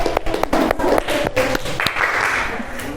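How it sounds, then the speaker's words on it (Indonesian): Classmates clap for student Valerina Nasita after her presentation, a loose patter of separate hand claps up close, with a voice partly mixed in as the clapping thins out. "Beri tepuk tangan untuk Mbak Valerina Nasita."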